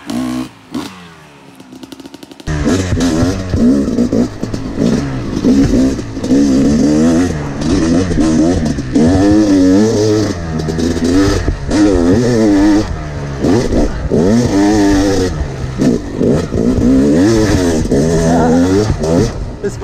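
Yamaha YZ250X two-stroke dirt bike ridden on a motocross track with berms and step-ups, the engine revving up and down loudly and continuously after a brief quieter opening.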